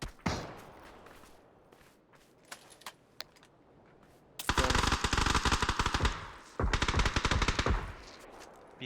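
MG3 machine gun fire in PUBG: after a stretch of scattered quieter shots and noise, two long rapid-fire bursts rattle loud and close, separated by a brief pause.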